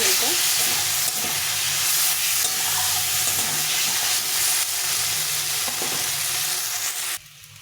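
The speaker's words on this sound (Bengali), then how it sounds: "আলুটা কষা হয়ে গেছে ভালো করে" Potatoes are sautéed in a hot oiled pan while a Bengali fish curry is cooked, giving a steady close sizzle with spatula stirring scrapes throughout that cuts off abruptly near the end.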